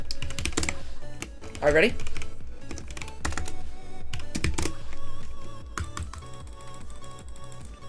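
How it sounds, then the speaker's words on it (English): Clacking keys on a computer keyboard tap in uneven bursts during a Roblox Bedwars game, under a voice talking and game sounds. "Can you guys hear my keyboard and stuff?"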